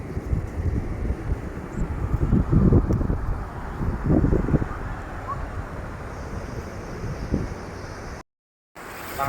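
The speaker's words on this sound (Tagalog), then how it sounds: "Lakas ng alon." Strong sea waves wash onto a beach in Agoo, La Union, heard as a broad rushing surf with surges and heavy wind buffeting the microphone, with faint voices in the background.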